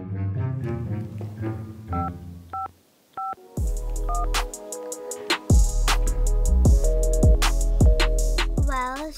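A phone call is placed: a run of dialing tones and beeps, then repeated electronic tones and ringing, clear and close with short pauses between them.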